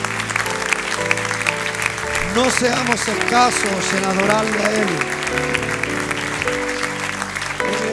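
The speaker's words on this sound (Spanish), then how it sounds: "Dele un gran aplauso al Señor" A church congregation applauds steadily during a Sunday service while a preacher talks over the clapping and music plays underneath.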